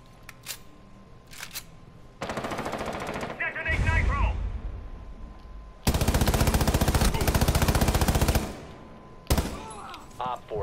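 Gunfire in the video game Rainbow Six Siege: loud rapid automatic bursts lasting a few seconds each, interspersed with single shots and an explosion-like rumble, all up close.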